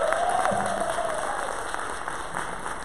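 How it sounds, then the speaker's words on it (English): An audience at a school equity event applauds students brought up on stage, a steady wash of clapping from a sizable crowd with a faint tonal whine in the room. "Give a round of applause for us having the students up here."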